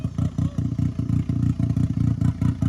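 A turbocharged Perodua Kelisa running its rebuilt original 1000cc engine revs hard and close, a deep, aggressive, steady chugging pulse with rapid rhythmic throbs throughout.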